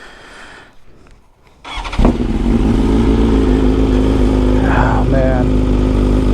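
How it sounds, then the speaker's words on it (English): A BMW S1000RR sportbike with an Akrapovic exhaust cold-starts after a short cranking whirr, then settles into a loud, steady, rumbling idle close by, while someone speaks briefly over it. "let's start off the day with a cold start before I head to work"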